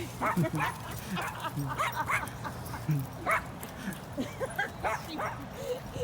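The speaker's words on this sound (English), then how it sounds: "Singe, please don't instigate this other dog." Dogs, including a Great Dane puppy, bark, yip and whimper in quick overlapping bursts, close by, with a person talking intermittently underneath.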